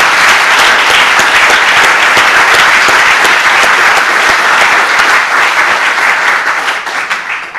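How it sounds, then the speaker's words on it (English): Loud, sustained applause from a seminar audience fills the room, dense and steady throughout before thinning slightly near the end. "Small round of applause."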